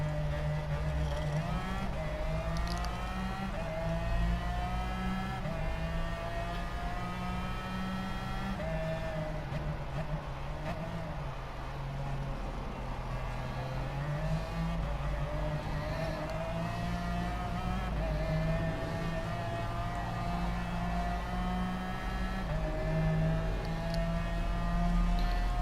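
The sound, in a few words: race cars racing in video game Gran Turismo Sport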